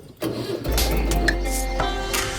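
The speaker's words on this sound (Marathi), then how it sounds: "आपण लगेच ट्रॅक्टर चालू करून घेऊया आता" A tractor's diesel engine cranks briefly and catches, then settles into a steady low idle rumble close by.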